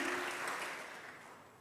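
A congregation in church breaks into a brief burst of dense applause that starts strong and slowly thins out, with no voices over it.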